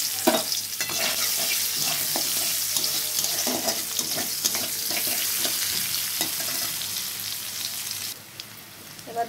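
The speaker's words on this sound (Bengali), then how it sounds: "অল্প তেলেই রান্না করছি, যেহেতু প্রচণ্ড গরম, ভালো লাগছে না, তো ওই জন্য অল্প তেলেই রান্না করব। অল্প পেঁয়াজ দিয়ে নিচ্ছি।" Chopped onion sizzling in a small amount of oil with five-spice in a pan, a steady hiss punctuated by spatula scraping and stirring clinks, close and alone without talk.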